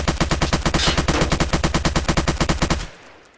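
A gun in the Roblox video game fires a rapid automatic burst of about two dozen evenly spaced, loud shots, then stops abruptly into near silence.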